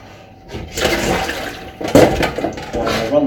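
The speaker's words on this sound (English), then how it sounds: "I'll run the water." Kitchen tap running into a sink as a fish pie is being cooked: a loud rushing splash of water that starts after a short pause, with a clatter of dishes partway through.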